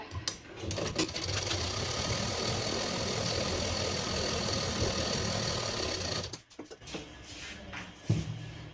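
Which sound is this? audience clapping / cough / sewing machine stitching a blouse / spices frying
sewing machine stitching a blouse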